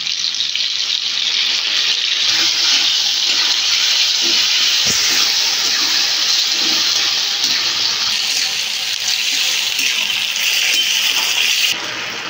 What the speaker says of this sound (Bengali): মাছের মধ্যে সসটা লেগেছিল, তাই আমি জলটা ধুয়ে দিই।